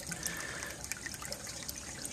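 Water gushing into a sump pump pit with a float switch, a continuous close trickling and splashing flow with uneven bubbling surges throughout, no voices.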